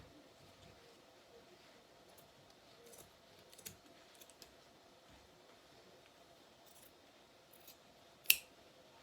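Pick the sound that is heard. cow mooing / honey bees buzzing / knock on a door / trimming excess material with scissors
trimming excess material with scissors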